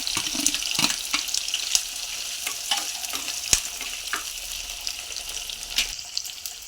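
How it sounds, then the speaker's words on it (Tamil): Garlic, green chili, ginger and onion sauté in sesame oil in a clay pot, a steady close sizzle with scattered scrapes and taps of a stirring spoon throughout, no speech. "இப்போ வந்து பூண்டு, பச்சை மிளகா, இஞ்சி, பெரிய வெங்காயம் இதெல்லாமே கொஞ்சம் சேர்த்து ஒரு வதக்கிடுவோம்."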